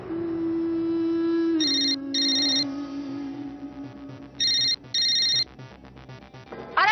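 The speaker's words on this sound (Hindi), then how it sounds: "अरे फोन बज रहा है, कोई उठाएगा उसे?" A telephone rings indoors in repeated electronic bursts, clear and fairly close, over a steady background tone with no talking.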